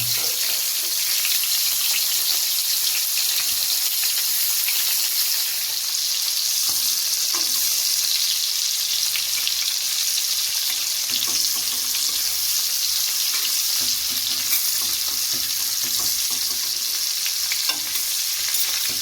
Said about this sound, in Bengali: মাছ আমাদের ভাজা হয়ে গেছে, এর বেশি কিন্তু ভাজবো না